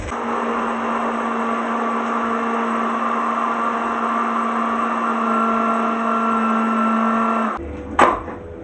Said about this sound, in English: So I'm going to use the chopper part of the blender